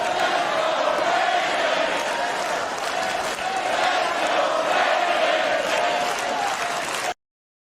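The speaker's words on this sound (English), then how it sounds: "it takes work to have a full crowd of grown adults chanting "Let's go Brandon"" A full crowd of grown adults at a patriotic awards show chants loudly together, a dense continuous roar of many voices for about seven seconds before it cuts off abruptly.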